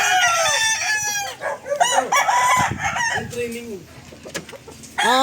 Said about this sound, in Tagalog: Mga manok na ito, oh.